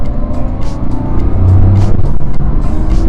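A Porsche GT3 fitted with a Fabspeed Supercup exhaust accelerates out of a left turn. The exhaust note is loud, close and raspy and swells under moderate throttle, with no speech.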